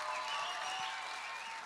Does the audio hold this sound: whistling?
no